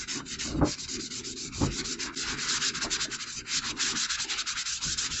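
Steady, rhythmic scrubbing strokes on a metal baking sheet during cleaning, close and fairly loud with a gritty rubbing texture and a few sharper scrapes, no talking.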